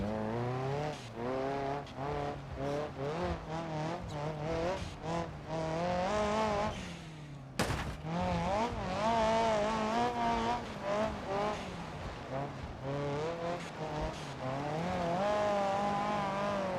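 A car in the BeamNG driving game whines at high revs with wavering engine pitch and tire squeal, then a sharp bang as it spins out before the engine revs on, close and loud.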